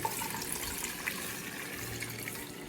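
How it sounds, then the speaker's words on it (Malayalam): Water pours steadily into a pot nearby, a continuous splashing rush that keeps going from start to finish. "ഈ പാത്രത്തിലേക്ക് ഞാൻ വെള്ളം ഒഴിച്ചു കൊടുക്കാം"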